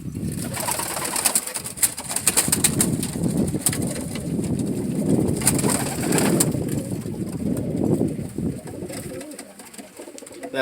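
Racing pigeons coo inside a South Texas loft, many overlapping soft throaty coos and burbles running continuously for about ten seconds, close and fairly loud, with occasional wing flaps and faint wind on the microphone.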